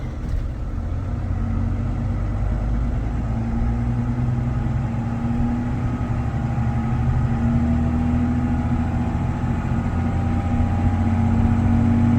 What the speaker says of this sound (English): This is at 30 miles an hour down a normal town road.